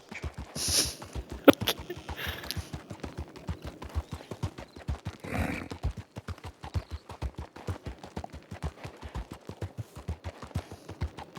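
A donkey in the video game Red Dead Redemption walks with steady hoof clip-clops throughout, fairly quiet, with a couple of brief sharp bursts near the start and a louder rush midway.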